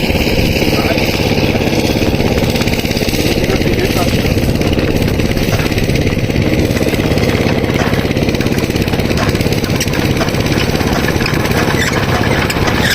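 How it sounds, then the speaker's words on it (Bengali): A power tiller engine fails to start and misfires with a loud, rough mechanical clatter that runs throughout. Voices talk over the noise. "মিস ফায়ার হয়ে গেল"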